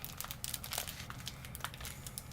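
A Simms turkey snack stick wrapper is pulled and torn at close range, with steady plastic crinkling and crackling throughout, faint overall and with no talk.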